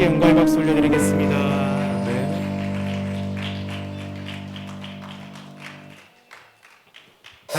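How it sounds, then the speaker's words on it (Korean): Church congregation clapping during a Sunday worship service, a scattered patter of hands that rises as sustained organ or keyboard chords fade out, then thins to sparse claps near the end. "예배받기에 합당하신 하나님께 영광의 박수 올려드리겠습니다"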